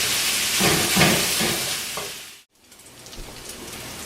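Bacon and onions browning in a pan, a close broadband sizzle that cuts out abruptly partway, then resumes quieter and softer, with no voices.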